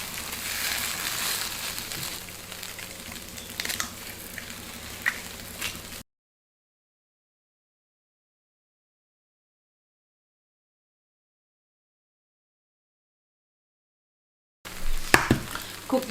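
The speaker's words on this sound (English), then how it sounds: "Cook this on a very low heat, covered, about 5 minutes." An egg cooks covered in a pan on low heat, giving a steady soft sizzle. A long silent stretch follows, then a brief return of sizzling with a few light clatters.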